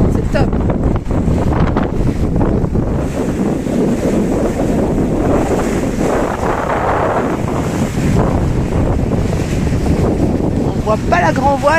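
Strong wind roars over a sailboat at sea in about 12–13 knots of breeze, a loud continuous rush with water and hull noise mixed in throughout.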